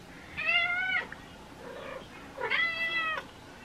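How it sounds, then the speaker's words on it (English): A house cat shut in its kennel meows twice, each cry close and clear and about half a second long, with a quiet pause between and no talking. "I've got this furball who just, you know, won't stop meowing."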